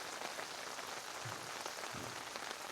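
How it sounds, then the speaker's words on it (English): Steady rain patters on surfaces around a campsite, a dense soft hiss of drops with no voices. "The rain has started again."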